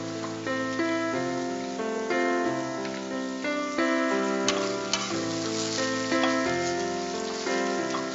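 Eggplant and cowpea stir-fry sautéing in a pan for a Tamil poriyal with coconut, giving a steady, close sizzle with stirring scrapes throughout, under a busy music-like tonal bed and no talk.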